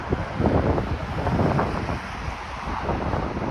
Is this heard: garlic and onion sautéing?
no